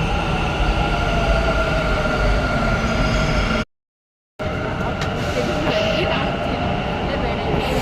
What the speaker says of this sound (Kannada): ಮೆಟ್ರೋ ಸ್ಟೇಷನಲ್ಲಿ ಇದ್ದೀವಿ